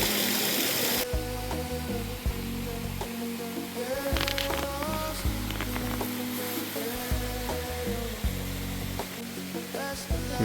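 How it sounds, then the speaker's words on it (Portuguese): Steady broadband rush of a waterfall beside a night-time mountain-bike campsite, a continuous close roar with faint intermittent tones over it and no speech. "Do meu lado tem uma cachoeira."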